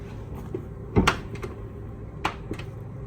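Soft-close sliding side door of a Stylevan Equinox 4x4 camper van easing shut, heard as a few quiet muffled thuds and a brief latch click over low background hum, no talking.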